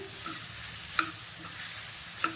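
Prawn stir-fry with spices being sautéed in a pan, a soft steady sizzle broken by a couple of light clinks of a spoon against the pan, fairly quiet and with no talking.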